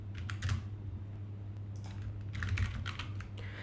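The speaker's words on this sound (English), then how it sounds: "Once I click on it, it is asking to fill up this form, so I'm just typing my name." Someone typing a name into a web form on a computer keyboard, quiet clusters of key clicks over a low hum.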